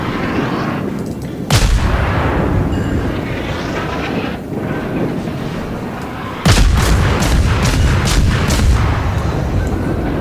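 Big naval guns boom in World of Warships, two loud broadside blasts about five seconds apart with a rapid cluster of sharp shots after the second, over a steady roar of engine and sea noise.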